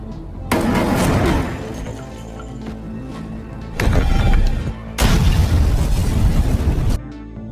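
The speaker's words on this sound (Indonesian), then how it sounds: "Setelah itu, Tina langsung meledakkan apartemen Jack guna melenyapkan jejak bukti." An apartment explodes in a film scene, with loud booming blasts and crashing debris that come in separate bursts, the later ones heavy and sustained, with no talk over them.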